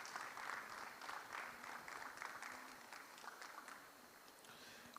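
An audience at a regional maritime conference claps for a panelist, a steady wash of applause that tapers slightly toward the end, with no talking on top.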